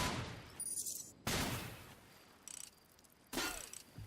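Sniper gunfire in a video game: a few sharp, quiet shots spaced a second or two apart, each with a brief crackling tail, with no talk over them.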